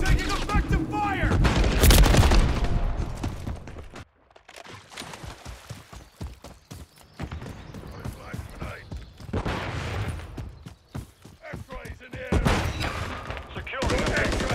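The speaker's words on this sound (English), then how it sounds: "Incoming! Taking effective fire!" Gunfire in Call of Duty: Modern Warfare 3 multiplayer, with bursts of automatic weapon fire and sharp shots at varying distances, mixed with in-game voice callouts and a drop to quieter moments midway.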